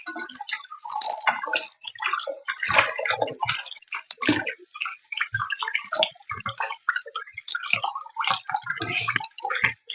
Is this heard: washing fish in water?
yes